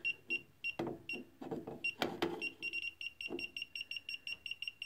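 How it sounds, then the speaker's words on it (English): Repeated high electronic beeps in a steady rhythm from a Klein circuit breaker finder, with some clattering handling noises in between, fairly close and clear. "There you go, so it beeps."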